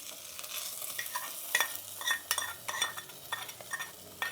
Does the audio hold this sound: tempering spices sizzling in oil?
yes